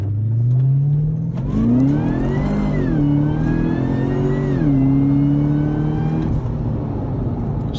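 A Cadillac CTS-V engine revs up loudly through its stainless cat-back exhaust, rising in pitch, holding, dipping and climbing again before settling, close and continuous.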